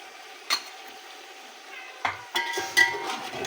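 Cooked mutton pieces and tomatoes are dropped into a pot and begin to fry, with a quiet sizzle broken by a few sharp clinks and scrapes of a utensil against the pot.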